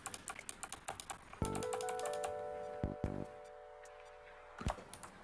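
Typing on a computer keyboard with rebound keys: a quick run of clicky keystrokes, then several sharper, louder key strikes over a steady electronic hum, all close and with no talking.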